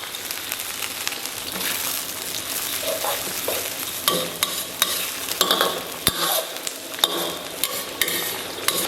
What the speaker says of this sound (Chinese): 然后给它来勺郫县豆瓣酱，来勺辣妹子辣椒酱，然后来勺剁辣椒，集体给它们炒香